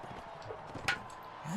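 Horse hooves clopping in the Mount and Blade video game, brief and fairly faint, blended into a busy game mix with a sharp burst in the middle.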